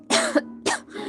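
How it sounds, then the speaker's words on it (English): Two quick, close coughs, harsh and raspy, separated by a short pause, followed by a rougher throaty tail. "the coughing."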